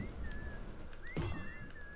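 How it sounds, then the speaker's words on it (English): A person whistling a faint, wavering tune in short phrases, distant and quiet against soft background noise. "Stop whistling."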